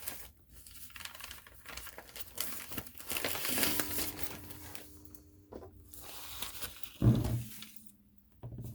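Paper is crinkled and handled close up at a craft table during gel plate stamping, with irregular rustling, tearing-like crackles and a sharp thump near the end.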